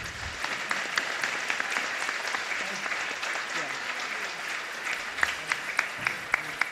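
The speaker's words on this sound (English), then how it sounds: "give them a round of applause" Audience applause closing an academic conference panel on war, peace and global justice, a steady dense patter of many hands with a few sharper near claps standing out toward the end.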